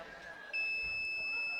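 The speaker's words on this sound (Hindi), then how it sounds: "ये जो है ना आपकी बजर की आवाज है।" Quiz competition buzzer at a grand finale: a single sustained electronic beep lasting about a second, loud and steady, over faint room noise with no voice.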